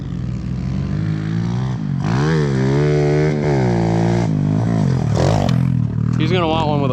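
Kawasaki KLX110 dirt bike engine running close by, idling then revving up and down in several rising and falling pulls, with people talking over it.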